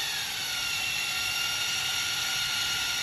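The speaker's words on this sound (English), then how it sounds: "You can hear that motor kick up." An AXXAIR pipe and tube saw motor runs with a loud, steady, high-pitched mechanical whine that holds an even level throughout, with no voices.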